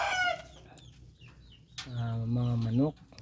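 Five-month-old Rhode Island Red mahogany chickens cluck on a farm, close by, in a few short calls that end in a louder drawn-out squawk. Faint background noise fills the gaps between calls.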